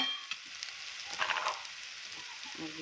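Finely chopped potato and onion frying in a pan with red chili powder and turmeric for a dry Maharashtrian bhaji: a soft, steady sizzle with a few brief stirring scrapes, close and fairly quiet, without speech.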